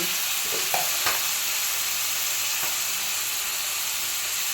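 Tomato, pumpkin and chillies fry in a pan with a loud, even hiss of sizzling oil, broken early by a couple of clinks and stirring scrapes.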